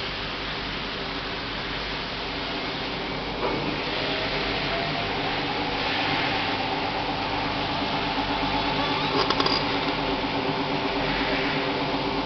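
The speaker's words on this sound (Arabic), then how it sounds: "بدأت الغسالة تخش دوران سريع." A Hoover washer-dryer running in test mode ramps into its fast spin cycle, giving a steady, dense mechanical whir and hum with faint rising tones and no talk.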